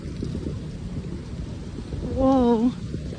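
Heavy rain pours during Hurricane Helene in western North Carolina, a constant dense hiss with deep thunder rumbling underneath and a brief wavering tonal sound rising over it near the end.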